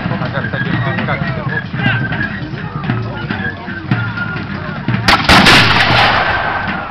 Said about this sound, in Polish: wybuch armatni pruskiej artylerii